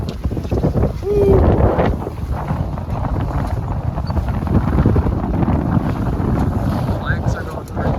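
Sailboat crossing a channel near Bainbridge Island, with steady strong wind buffeting the microphone and rushing water throughout, loud and close.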